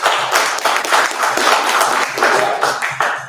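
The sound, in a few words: audience round of applause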